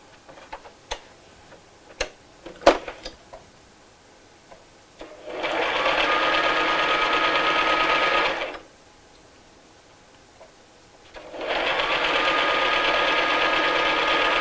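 A sewing machine stitches straight across the bottom of a fabric tote bag in two steady runs of a few seconds each, with scattered clicks and handling before the first run.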